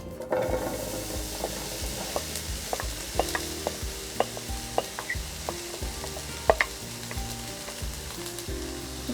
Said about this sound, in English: you'll just see a little bit of a sizzle